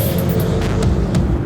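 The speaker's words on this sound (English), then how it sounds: "BMW 340i sounds fantastic at full chat." A BMW 340i's six-cylinder engine at full throttle, a loud, steady, deep roar that holds unbroken through the whole stretch.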